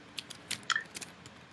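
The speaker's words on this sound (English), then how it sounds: "I'll type as you go." Someone types on a keyboard in a short burst of irregular, crisp key clicks, close and fairly quiet, with a few keys struck harder than others.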